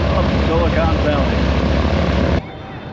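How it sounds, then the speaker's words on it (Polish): Aircraft engines of the Snowbirds aerobatic team start up at the Reno air show, a loud steady roar and whine that cuts off abruptly near the end, with a voice talking over it. "Chłopaki ze Snowbird z Kanady zaczynają swój pokaz. Właśnie odpalili silniki."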